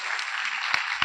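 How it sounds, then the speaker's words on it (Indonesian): Brief burst of audience applause at the closing ceremony of a data hackathon in East Java, steady clapping for a team with a couple of sharper claps near the end. "tepuk tangan dulu untuk tim Begadang"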